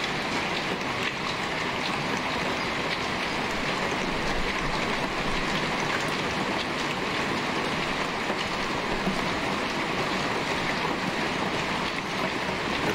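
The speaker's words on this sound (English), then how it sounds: "It's raining cats and dogs, everyone." Heavy, steady rain pours down in The Glass Staircase video game, a dense broadband wash that holds constant for the whole stretch with no voices over it.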